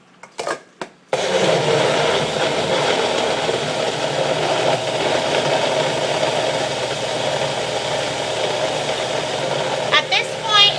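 A blender purees pumpkin into baby food, its motor running loud and steady for about ten seconds after a brief start, with a few faint voices breaking in near the end.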